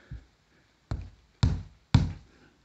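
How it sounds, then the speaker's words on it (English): A closed fist knocks on a plaster wall being checked for blown plaster: four separate, close, dull thuds, the first lighter and the last three heavier and evenly spaced, each with a short ring, in a quiet room with no talk. "or you could knock the wall."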